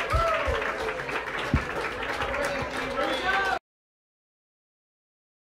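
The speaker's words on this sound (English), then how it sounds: "Another round of applause for Josh Hollis" Applause from a crowd at a Louisiana music prize band announcement gathering, a steady dense patter of clapping that carries for a few seconds and then cuts off abruptly into silence.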